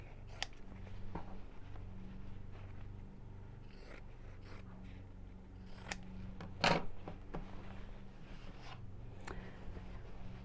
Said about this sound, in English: Now I'm just going to snip around the curved seams.